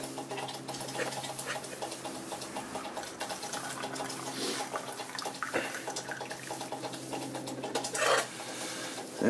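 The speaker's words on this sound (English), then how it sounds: "What I can do is I can drain it in my cups." Hot water from cooked ravioli pours out of a pot into metal canteen cups, a continuous splashing trickle with a few sharper clinks near the end, close and moderately quiet.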